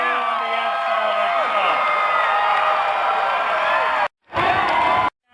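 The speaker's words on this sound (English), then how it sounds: "Fantastic crowd" A large outdoor crowd at Paul McCartney's Hollywood Walk of Fame star ceremony cheers and whoops continuously, loud and sustained, with a sharp cut near the end.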